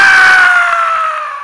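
A voice imitates a sudden scream of someone startled awake in a car, a loud, sharp cry that fades out over about a second and a half.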